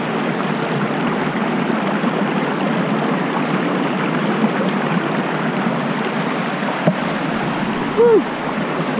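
Steady rushing and splashing of water flowing through a gold prospecting sluice set up outdoors in winter in California, continuous and close, with a brief louder splash near the end.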